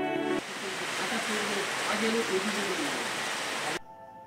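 Rain falls steadily in a mountain village in East Sikkim, a dense, even hiss that continues throughout while a person talks over it.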